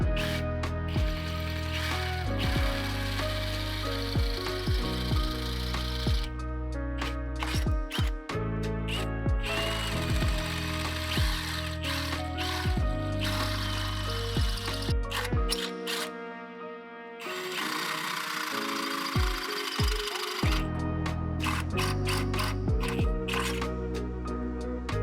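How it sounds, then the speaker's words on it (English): A power drill with a 25/64 bit bores holes in the inner fender of a Jeep JL/JT. The motor drones loudly and steadily for most of the stretch, with a brief dip before it picks up again. "we can use the 25/64 drill bit needed for the rev nuts."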